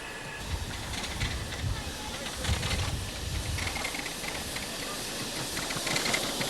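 Steam locomotive blowdown valves venting, a broad continuous hiss of escaping steam with faint rumbling underneath, steady throughout at close range.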